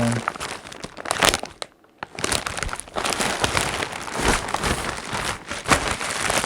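A plastic parcel package from an online order being opened: loud, close crinkling and crumpling of the plastic with tearing bursts, briefly pausing, then continuing densely to the end.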